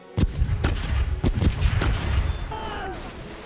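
A ship's broadside in the Caribbean Legend pirate game booms out as about five heavy cannon shots in an uneven volley, each a loud thump with a rumbling tail, followed by whistling projectiles and then fading reverberation.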